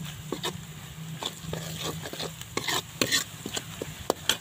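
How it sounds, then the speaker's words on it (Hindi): Red chili powder, turmeric and garam masala being stirred and fried in a pan for fish karahi, with steady sizzling and repeated scraping spoon strokes close by, no talk. "अब हम इसे मिक्स करेंगे थोड़ा भुनेंगे"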